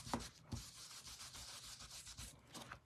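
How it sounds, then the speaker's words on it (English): Excess gilding flakes are scraped off a surface, making repeated soft rubbing and scratching strokes in a quick uneven rhythm, close and fairly quiet, with a couple of sharper scuffs and no talking. "it just scrapes off the bits that you don't want"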